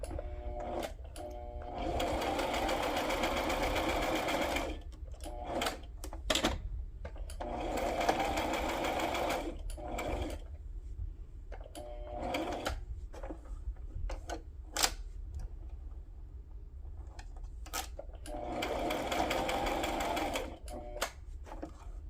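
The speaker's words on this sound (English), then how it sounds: "So I'm going to go ahead and sew that together. Just sewing around my sentiment." A sewing machine stitches a glassine wax paper journal pouch in several steady whirring bursts of a few seconds each, separated by short pauses and clicks, close and fairly quiet.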